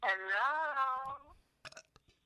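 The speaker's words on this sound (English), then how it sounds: "Sorry. I have a burp." A long, loud, voiced burp from a person, rising and holding for over a second before trailing off, followed by brief faint mouth sounds.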